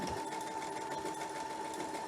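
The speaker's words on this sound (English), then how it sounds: "I'm just sewing in the opposite direction now." A sewing machine runs continuously, stitching a hem in a steady fast whirring drone with an even mechanical hum, close and alone without talk.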